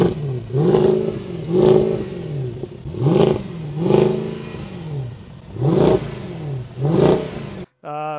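A Mercedes W218 CLS63 AMG with resonator and muffler delete revs repeatedly, six loud rising-and-falling bursts of deep exhaust roar in a steady rhythm, close and alone.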